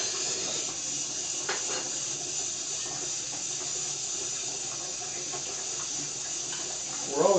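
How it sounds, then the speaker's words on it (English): An ultrasonic cleaner runs in a plating lab, giving a steady, close high-pitched hum and watery hiss that holds constant throughout, with a brief louder clunk near the end. "Turn the ultrasonics on."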